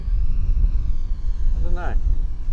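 Eachine mini T-28 Trojan RC plane, a small beginner ready-to-fly model, buzzing past on a windy day, its motor whine rising in a brief sweep near the end over steady wind rumble.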